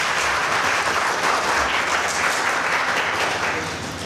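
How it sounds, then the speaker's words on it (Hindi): An audience applauds in a hall, a thick, sustained wash of many hands clapping at full strength that tapers slightly near the end. "ये ताली आपके लिए बज रही"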